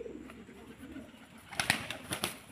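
A racing pigeon in training gives a few soft coos, then its wings clap and flap in quick bursts near the end, close by, with faint background noise and no speech.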